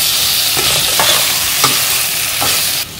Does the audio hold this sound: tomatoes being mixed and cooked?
yes